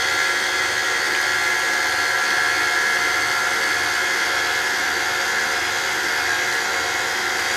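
An electric mixer beats Colombian cheese bread dough at rising speed, giving a loud, steady motor whir that runs on without a break.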